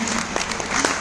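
Applause from a seminar audience welcoming guests onto the stage, a short burst of dense steady clapping heard from within the crowd.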